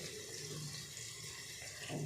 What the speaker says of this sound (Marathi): याच ताटामध्ये ना थोडंसं पाणी गरम करायला ठेवून घेणार आहे